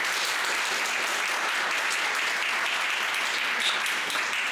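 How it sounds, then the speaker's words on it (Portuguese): A sustained wash of audience applause at a pitch presentation, steady and dense from start to finish with no pauses. "Agora eu quero que vocês aplaudam como vocês querem ser aplaudidos."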